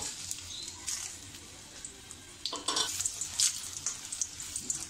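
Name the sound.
Byadgi chillies frying in pan on low flame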